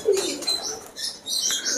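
Fancy pigeons at a large bird farm in Madurai give soft, low coos amid light chirps and a brief flutter of wings, close and moderately loud with no talk.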